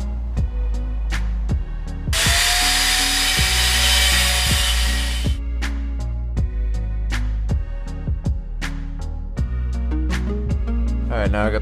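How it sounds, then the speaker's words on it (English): A power drill bores holes in a Nissan 350Z fender for a vented fender mod. It runs as one loud whine of about three seconds, with metallic clanks and knocks before and after it. "Now I got the holes drilled for here"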